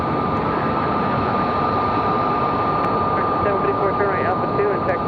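A jet airliner roars loudly on its takeoff roll from runway 23 right at Raleigh-Durham, a steady broadband rush with a high whine, while a radio voice talks over it.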